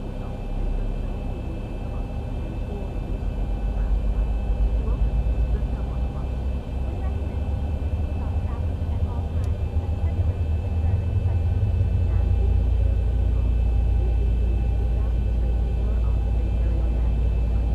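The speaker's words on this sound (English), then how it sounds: "Okay, engine 2 has started, so we go to engine number 1." An airliner jet engine spools up during startup in the X-Plane 11 flight simulator, a steady loud low rumble and whine that slowly builds, with someone talking over it.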